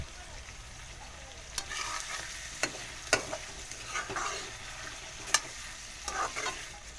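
Pork being stir-fried with cumin and coriander powder in an Assamese-style pork curry with banana stem: a low steady sizzle with sharp scrapes and clacks of a spoon stirring at irregular intervals.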